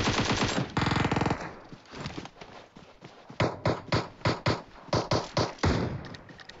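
Rapid bursts of automatic gunfire from PUBG Mobile gameplay repeat in a rhythmic series of sharp, close shots with short pauses between bursts.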